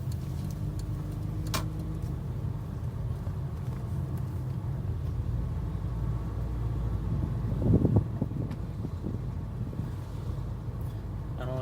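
Porsche RS60 Spyder convertible driving with the roof down, a steady low engine and road rumble with wind buffeting throughout and a brief louder swell partway through.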